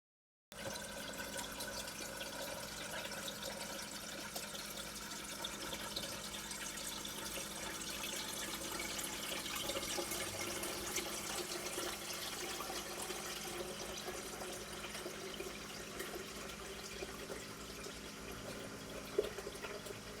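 A pump adds water to a storage tank, giving a steady, even rush of flowing water that runs continuously for about twenty seconds without talk, with one small knock near the end.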